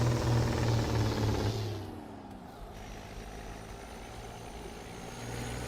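Truck engine in American Truck Simulator running the OHM Word engine and transmission mod, a low rumbling drone that drops from a louder rev into a steady idle, then swells slightly again.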